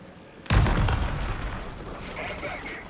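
A frag grenade in a video game goes off in a single loud, close boom at once, followed by a rumbling tail that fades over a couple of seconds.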